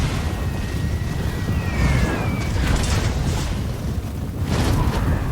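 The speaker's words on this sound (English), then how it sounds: "my mortars started taking some shots at my opponent from afar" Mortars firing artillery shells in a Total War: Warhammer battle, heavy booming thumps and rumbling blasts rolling over a loud continuous battlefield din, with whistling shells arcing overhead.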